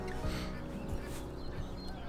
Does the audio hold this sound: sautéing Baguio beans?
no